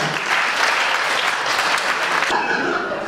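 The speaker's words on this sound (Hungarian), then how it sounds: "Nagy tapsot az örömanyának!" Lively applause at a Hungarian wedding, honoring the groom's mother, loud and continuous from the guests before tapering slightly near the end.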